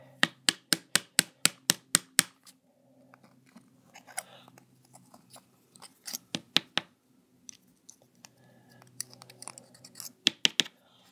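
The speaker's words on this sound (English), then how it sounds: "I just took my blade again and I scraped against the edges" A metal blade scrapes polymer clay out of a tool tip, giving a burst of quick, regular scraping clicks at first, then scattered softer scratches and a few more sharp ticks, close and fairly quiet with no talking.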